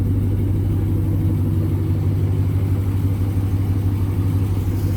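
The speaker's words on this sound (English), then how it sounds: "This is actually the first time I'm hearing it with the muffler on there." An LS-swapped Ford Fairlane engine running through a new muffler, a steady, loud, deep idle rumble heard close and alone throughout.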